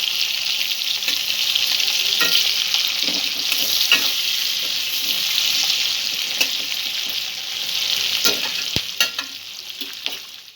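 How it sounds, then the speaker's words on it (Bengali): Onions frying in a pan until light brown, a continuous close hiss with intermittent clacks and scrapes of the stirring spoon, no voices. "পেঁয়াজটা হালকা বাদামি করে একটু ভেজে নেব"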